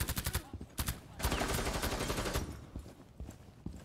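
Rapid gunfire from a Rainbow Six Siege match, a quick string of close, sharp shots followed by a dense, loud stretch of bursts and impacts that fades toward the end.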